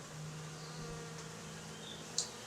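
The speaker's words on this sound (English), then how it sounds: "So these are all worker bees" Worker honey bees hum at an open hive, a faint steady drone with a brief sharper buzz near the end as one bee passes close.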